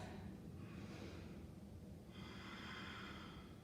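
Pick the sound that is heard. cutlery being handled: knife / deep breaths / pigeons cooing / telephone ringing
deep breaths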